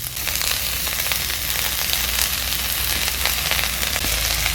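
Ash gourd leaves frying with onion and garlic in a hot pan, giving a loud steady sizzle with crackling bursts throughout and no talk.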